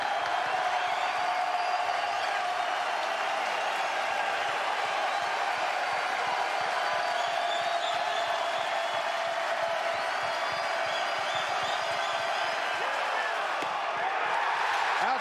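Big baseball crowd at a Texas Longhorns home game against LSU roars and cheers steadily after a ball-four walk ties the game, a loud sustained wall of voices with whoops throughout.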